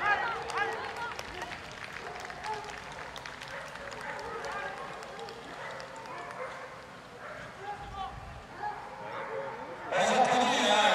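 Dogs bark and yip amid a busy outdoor village festival scene in Saint-Andiol, France, with voices talking over them and a burst of louder noise near the end.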